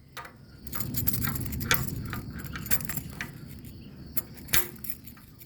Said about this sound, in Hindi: चाबी लगाइए, ये ताला खोल लिया, ये मेन गेट खोला।